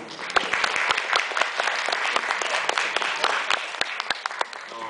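Audience applause at a cosplay stage event, a lively mix of many hands clapping with sharp individual claps standing out, steady for about five seconds.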